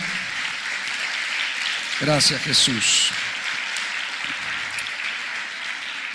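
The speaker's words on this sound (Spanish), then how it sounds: "denle otro aplauso al Rey de Gloria" Applause from a church congregation, a steady wash of clapping that runs throughout, with someone speaking briefly over it near the middle.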